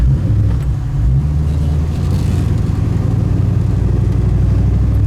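A 1972 Chevrolet El Camino driving on the road, a loud steady engine rumble heard from inside the cab, with a slight dip and change in pitch as gears shift, no talking.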